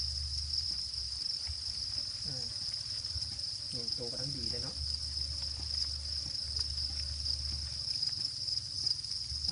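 Plump white crickets kept for food chirp in a steady, continuous high trill while someone talks briefly over them.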